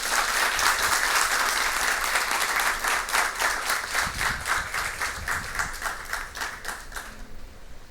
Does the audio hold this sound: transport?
no